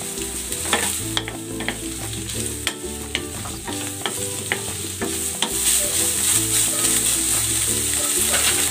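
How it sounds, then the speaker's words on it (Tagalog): Onion and shredded chicken sautéing in a pan for sotanghon soup, a steady sizzle with repeated scraping and clinking stirs of a utensil against the pan, close and clear, with no talk. "Igisa ko na rin tong sibuyas."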